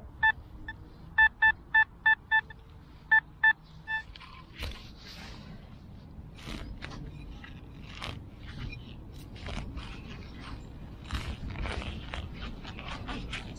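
An XP Deus 2 metal detector beeps over a crown bottle cap in a short, rapid run of sharp tones, followed by digging, scraping and rustling close by, with no speech.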